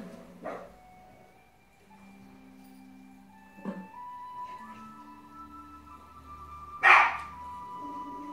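A dog barking in the video game Skyrim, a few isolated barks spaced several seconds apart, the last one loudest, set against soft ambient game music with no talking.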